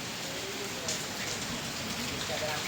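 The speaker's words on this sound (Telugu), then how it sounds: "ఇట్లా ఉంటుంది వర్షం పడ్డప్పుడు చూడండి గల్లీ మొత్తం వర్షం నీళ్ళే" Heavy rain pours down on a flooded lane in Sircilla in a dense, continuous hiss, with scattered drops pattering on surfaces nearby and faint voices underneath.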